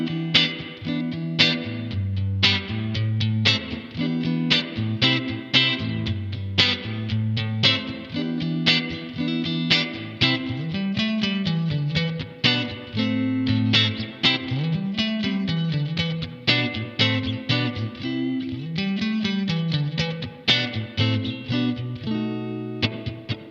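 Electric guitar played through a clean US-style amp model with a touch of reverb, steady chords and picked notes ringing continuously and alone for over twenty seconds.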